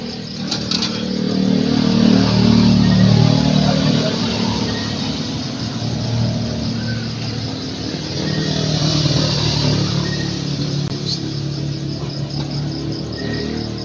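A Kia Bongo truck with a wiring problem and freshly charged battery, its engine running steadily and fairly loud close by, with a broad droning rumble that swells slightly at times, heard outdoors at night with no talking.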